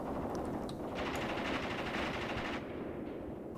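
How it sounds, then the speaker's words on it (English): Mortar bombardment of a village in the war game Graviteam Tactics Mius: a dense, continuous roar of rumbling explosions and rapid gunfire that stays loud throughout, with no voices. "let's start bombarding the village with mortars."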